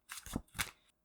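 Tarot cards shuffled in two quick riffling bursts, crisp and close but soft, over about a second, with no talking.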